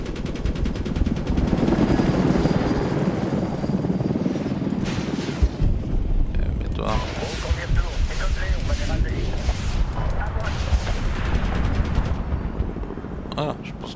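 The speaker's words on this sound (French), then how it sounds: "Voilà, des hélicos lourdement armés" Heavily armed helicopters in the Medal of Honor video game roar steadily while bursts of machine-gun fire and explosions crackle over the din, with voices talking throughout.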